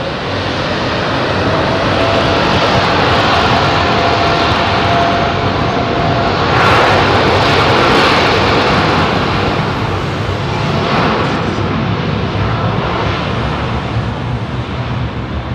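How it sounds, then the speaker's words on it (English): An ANA Boeing 787-9 in Star Wars R2-D2 livery departs Heathrow runway 27R with a loud, sustained jet roar that swells and slowly fades as it climbs away, with no talk over it. "It's a Star Wars limited edition aircraft on screen."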